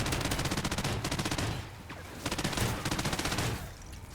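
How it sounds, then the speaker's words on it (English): Rapid automatic gunfire from a large chain gun–style machine gun in Call of Duty Ghosts multiplayer on PS4, a loud sustained stream of shots with a brief lull midway before the firing resumes. "I've got enough ammo to just continue shooting"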